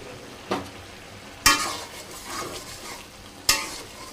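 Potatoes frying for aloo bhaji, a soft continuous sizzle broken by three sharp spatula scrapes and clanks against the pan, close and alone.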